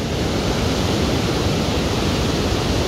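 The Langtang river in Nepal rushes beneath a trekking bridge, a steady, dense roar of flowing water with no break and no voices over it.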